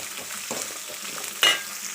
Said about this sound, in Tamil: வெங்காயம் போட்டு லேசாக வதக்கியாச்சு